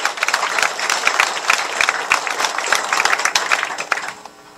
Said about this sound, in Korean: 박수로 한번 여러분들 받아해 주세요